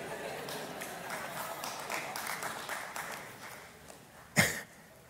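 A church congregation applauds a preacher, a soft, distant patter of many hands tapering off, then one brief louder knock or clap near the end, with no talk.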